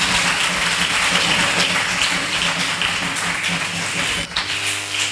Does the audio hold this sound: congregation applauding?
yes